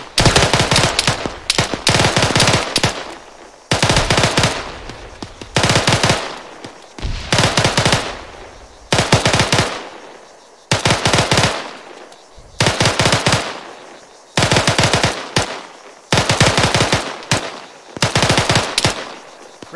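Machine gun fire in the military shooter game Arma 3, loud close bursts of rapid automatic shots repeating in a rhythmic pattern with short pauses between them, sustained throughout.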